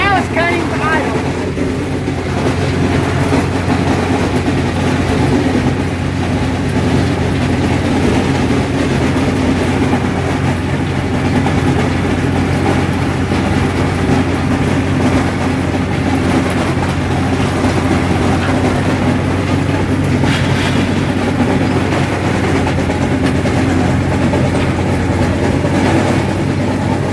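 Allis-Chalmers 7000 tractor cutting hay, its loud engine droning steadily and close for the whole stretch with a deep, constant rumble and mechanical clatter, no talk.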